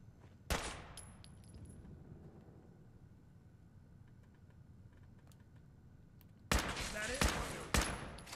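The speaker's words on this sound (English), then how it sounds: "Nick's getting shot at because he went up ahead while I'm looting" Gunfire in Fallout 4 VR aimed at companion Nick: one sharp shot early on, a lull with a low steady background hum, then loud bursts of rapid fire near the end.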